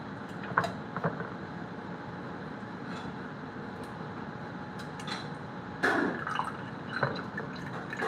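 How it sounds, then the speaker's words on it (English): Juice from a can of peaches poured into a baking dish for cobbler, a soft steady trickle of liquid with a few drips and light clinks of metal against the dish, heard alone without talk. "So we're gonna just pour this juice over in here."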